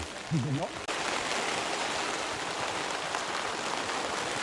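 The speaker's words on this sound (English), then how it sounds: "And down comes the rain again." Rain pours down during a rugby match, a steady hiss of falling drops filling the air throughout; a brief voice is heard near the start before the downpour continues alone.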